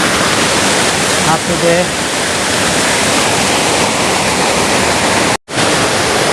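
A three-tier waterfall at Dabanggre village in West Garo Hills, Meghalaya, roars as a loud, close, steady wash of rushing water, with a brief voice over it and a sudden cut near the end.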